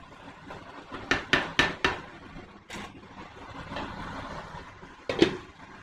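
A clay cooking pot being closed with its lid while chicken cooks, a quick run of sharp clinks and knocks, then a pause and a final louder clunk, close by with no talking.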